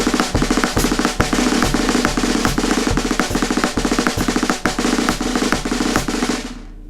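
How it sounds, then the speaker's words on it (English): A drum kit plays a steady five-stroke roll exercise with bass drum on every beat and hi-hat on two and four, close and loud, with dense rapid stick strokes throughout and no talking. "You add bass drum on all four,"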